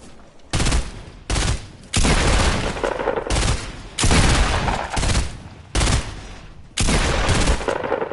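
Enemy gunfire in a shooter game, loud bursts of automatic fire repeating in a broken rhythm of short and long volleys with brief gaps between, close and dominant.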